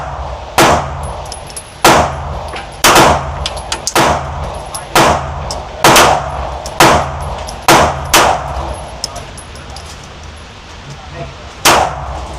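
Pistol shots ring out one after another at a target range, sharp loud reports with a metallic clang after each, a steady series spread across the span with short pauses between.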